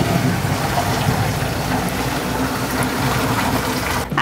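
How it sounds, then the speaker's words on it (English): Cooked pasta water drains steadily in a home kitchen, a continuous close gushing pour that runs for about four seconds before briefly breaking off at the end. "After draining your pasta"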